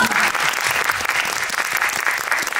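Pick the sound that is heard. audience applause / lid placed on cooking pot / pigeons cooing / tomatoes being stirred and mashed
audience applause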